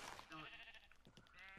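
A sheep in the video game Minecraft gives a single drawn-out bleat, close and clear, with no talking over it.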